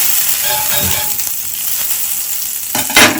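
Butter sizzling in a hot pan before bread goes in for toasting, a steady close frying hiss with a brief louder crackle near the end.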